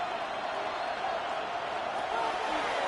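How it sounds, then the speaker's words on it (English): A Buffalo football stadium crowd roars in a steady, dense wash of cheering voices before a third down, sustained and even throughout. "The Buffalo crowd being heard before third down."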